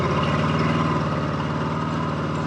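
Close and loud, a 1954 Harley-Davidson FH 750 motorcycle sits idling, its engine thumping in a fast, regular low pulse that holds steady throughout.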